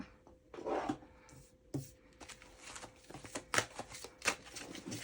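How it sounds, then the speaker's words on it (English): Tarot cards are shuffled close by in quick, uneven riffles and soft rubbing sounds, with brief snaps and pauses between bursts. "Hope you can see me shuffling."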